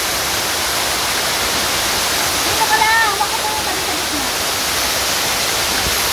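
Waterfall at Pak Shui Wun in Hong Kong, a loud steady rushing roar filling the whole stretch, with people speaking briefly over the constant water noise.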